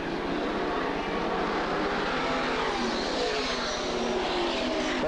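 Race cars roaring through the corner of Flemington Speedway, a continuous loud, dense blend of engine noise that swells slightly, with no clear speech.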